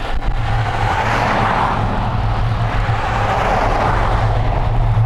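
Cars on a steep road rumble past in a continuous, fairly loud low drone, with a broad rushing swell as one vehicle nears and recedes, steady and alone without speech.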